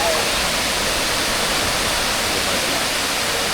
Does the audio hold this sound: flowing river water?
yes